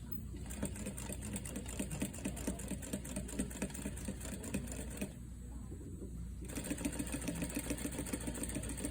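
A sewing machine runs steadily, close up, while top-stitching a gathered sleeve, with a fast even needle rhythm that pauses briefly partway through and then resumes.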